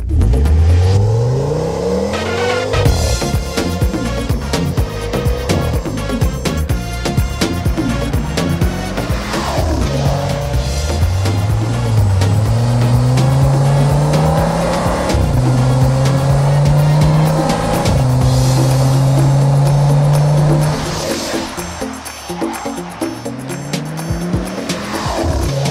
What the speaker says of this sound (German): was für ein heftiges Motorgeräusch